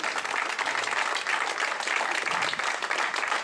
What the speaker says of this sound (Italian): Un applauso per Raffaella.